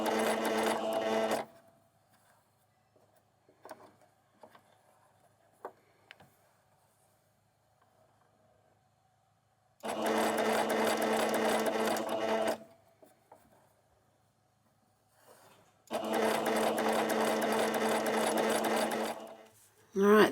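Sewing machine stitching fabric ruffles in three loud, close bursts of steady motor hum, with quiet gaps between them holding faint clicks and handling noises.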